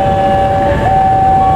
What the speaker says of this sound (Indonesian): diberangkatkan kereta api Ciremai